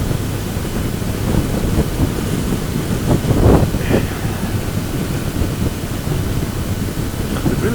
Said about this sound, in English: It's a bit of a northerly wind, so the weather's coming from that direction ahead of us.